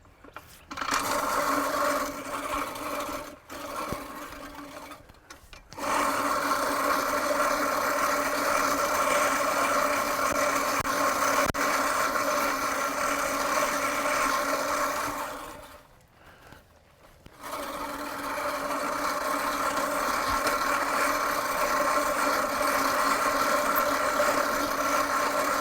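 A manual reel mower pushed through tall grass gives a steady whirring, clicking spin from close by, with two brief pauses as it stops, then rolls on.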